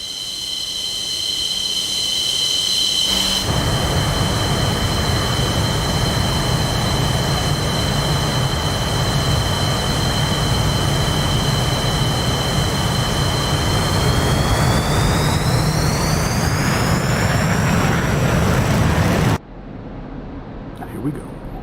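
MiG-29 jet engines running up into first-stage afterburner on a deck, a loud continuous roar with a high whine that climbs in pitch, then cuts to a much quieter background near the end.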